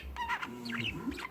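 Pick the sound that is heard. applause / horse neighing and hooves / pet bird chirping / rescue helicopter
pet bird chirping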